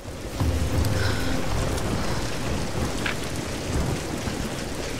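A thunderstorm with heavy rain in the Tomb Raider video game: a dense, steady roar of rain with low rumbling thunder underneath, loud and continuous throughout, with no talking.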